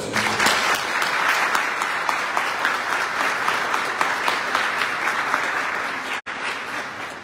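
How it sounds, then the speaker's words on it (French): A church congregation at a Sunday Mass applauding loudly and steadily for several seconds, a full room of clapping hands that cuts out briefly near the end before resuming. "L'équipe communication que je vous demande d'applaudir très fort."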